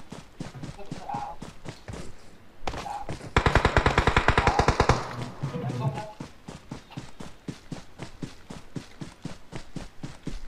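Gunshots crack out as a rapid run of sharp bangs, with a dense, louder burst of fire in the middle and regular single shots before and after. Voices can be heard faintly in the background.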